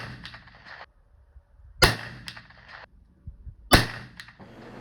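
Two muzzleloader shots with Pyrodex, 100 grains in two pellets, behind Hornady XTP 240-grain bullets, each a sharp loud crack with a short ringing tail, several seconds apart, outdoors and alone.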